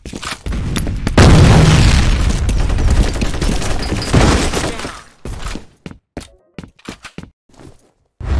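A grenade goes off in a F.E.A.R. Combat match on the Brickhouse map, a loud close boom with a long roaring tail, followed by scattered sharp gunshots and footsteps.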